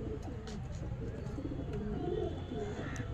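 Pigeons coo softly in a loft, low repeated calls over a murmur of background sound, with a voice faintly present.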